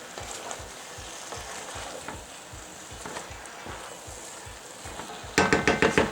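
Ratatouille vegetables are folded in a pot with a utensil, making a rhythmic series of soft scrapes over a constant sizzle, with a louder burst of quick stirring clatter at the end. No voices.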